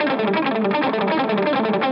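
A busy, distorted electric guitar riff played with alternate picking runs fast and dense, with effects and steady loud attacks throughout, alone with no talk.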